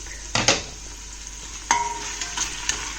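Onions and garlic frying in a pan for a spinach and chicken curry, with a soft steady sizzle broken by a couple of louder scraping stirs near the start and middle.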